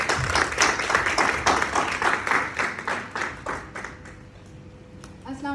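An audience at a lecture meeting claps to welcome a speaker, a strong burst of applause with a rhythmic pulse that thins out and fades away toward the end.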